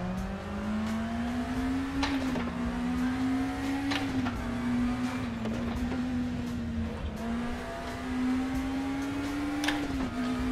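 A race car in RaceRoom racing simulation, driven with manual clutch on a slightly damaged gearbox, drones steadily at high revs, with repeated sharp clicks and brief dips in engine pitch as gears shift.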